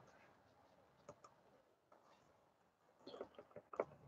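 Soft, irregular clicks of a computer keyboard being typed on, scattered and fairly close, growing denser near the end, with a quiet voice in the background.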